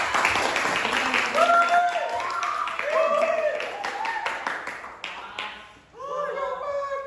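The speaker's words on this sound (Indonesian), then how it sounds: "Tepuk tangan dulu." A classroom of students claps for a group after its presentation, a loose scattering of hands mixed with chatter and children's voices throughout, fading briefly before rising again.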